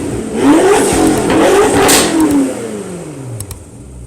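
A 2014 BMW M6 coupe engine with aftermarket full exhaust and its exhaust valve open revs up hard in a loud, rising roar, holds, then falls away, with a second shorter blip near the end.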